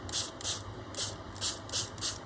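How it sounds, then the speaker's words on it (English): A spray bottle spritzes watered-down ink onto a canvas in six short, even hissing bursts, close up and soft, with no talking. "I'm going to spray it a bit so it starts to get in those cracks there."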